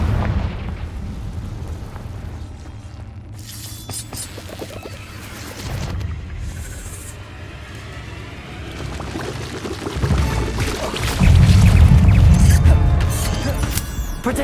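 Repeated Confringo spell explosions in Hogwarts Legacy, cast inside a cave: booming, crackling bursts over a continuous low rumble, with a louder, heavier blast swelling near the end.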